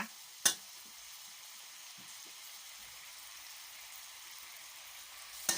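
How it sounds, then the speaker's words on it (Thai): Quiet, steady sizzling of pork stir-frying in a pan, with a couple of sharp scraping clacks of a utensil near the start and end. "เราก็จะผัดให้แห้งนะคะ"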